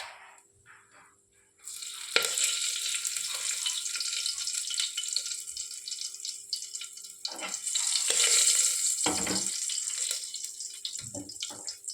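Curry leaves dropped into hot oil for spiced Gujarati vaghareli rice crackle and sizzle loudly after a short quiet start, the spitting hiss swelling and fading in bursts.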